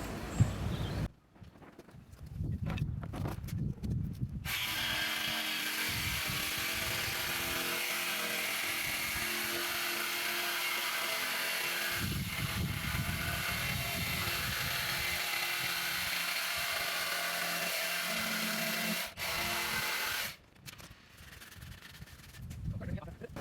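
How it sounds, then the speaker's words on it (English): A jigsaw cuts through an old kitchen unit panel, its steady buzzing rasp running loud for about fifteen seconds, with brief pauses and handling noises at the start and end. "I'm now going to cut that with the jigsaw"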